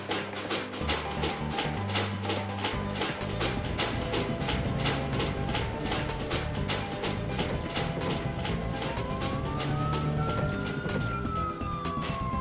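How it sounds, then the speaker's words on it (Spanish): A fire truck siren wails, rising and falling in the distance behind a steady rhythmic mechanical clatter. "¿Oyes eso, coche? Es un camión de bomberos."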